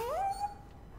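A dog's whine or yelp rising into a short sustained tone in the video game Dragon Age 2, a single clear vocal call that fades away within a second, with no talking over it.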